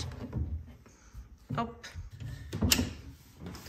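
Two small doors of a sideboard cabinet being opened, giving a few soft knocks and wooden clicks spread across the clip, with a brief spoken word among them.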